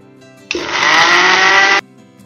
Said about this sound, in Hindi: इसमें 1 चम्मच नींबू का रस, 1 चुटकी काला नमक और 1 चुटकी सेंधा नमक मिलाकर मिक्सी में पीस लीजिए।